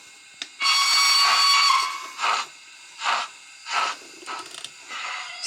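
A model steam locomotive's onboard sound plays a long steam whistle blast followed by several rhythmic bursts of hissing steam chuffs, clear and close with no talking.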